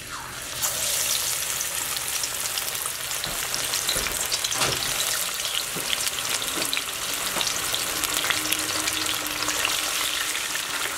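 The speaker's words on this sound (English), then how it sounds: "we're gonna start the frying process now" Fish sizzling and frying in hot oil in a pot over medium-high heat, a steady loud crackle with occasional pops and stirring clatter, no talking.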